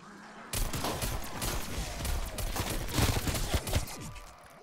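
Rapid, sustained bursts of video game gunfire from an upgraded, overpowered weapon, rattling loud and close for several seconds with no talk over it.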